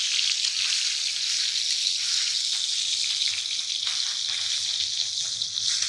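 A ribeye steak fries in a pan with a loud, continuous close-up sizzle and crackle that holds steady throughout, with no voices.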